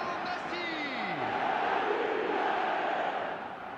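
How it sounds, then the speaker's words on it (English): Stadium crowd in eFootball 2024 roaring after a goal, a loud, sustained wall of cheering and whistles that holds steady and fades slightly at the end, with a commentator's voice underneath. "the crowd level has gone up a notch or 10"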